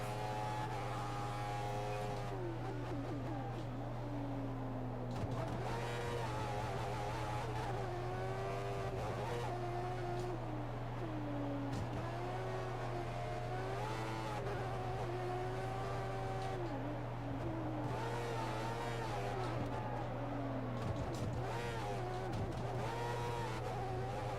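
A Formula 1 car engine from the F1 2014 racing game whines steadily at high revs throughout, rising and falling with gear changes, loud and continuous with no talking over it.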